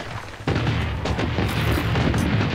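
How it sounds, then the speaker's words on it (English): Missile bombardment in the shooter game Blood Strike lands as a sudden heavy boom followed by a string of rumbling, overlapping blasts, loud and continuous for a couple of seconds, with no voices over them. "Missile bombardment on its way."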